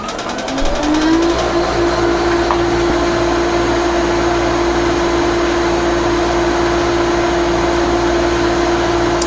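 A pool pump motor switches on, its whine climbing briefly in pitch before settling into a loud, steady hum that runs without a break.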